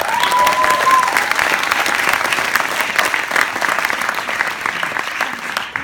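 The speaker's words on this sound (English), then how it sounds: "Let's have a round of applause for that." A talent show audience in Teesside claps in a sustained, dense round of applause, loud and close, with a brief tonal whistle near the start and no clear talk.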